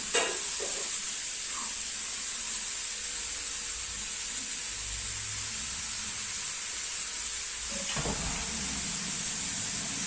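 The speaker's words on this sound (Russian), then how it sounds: "теперь можно обжарить уже остальные овощи" Vegetables sizzle steadily in a hot pan, a continuous bright frying hiss lasting throughout, with a couple of brief stirring clatters near the start and again near the end.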